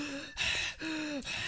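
Heavy, creepy breathing pushed close into a microphone: three loud, breathy gasps in a row, each followed by a brief pause, with no talking.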